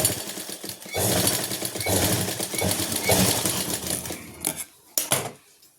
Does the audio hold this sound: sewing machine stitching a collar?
yes